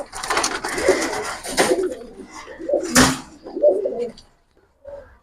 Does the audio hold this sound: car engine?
no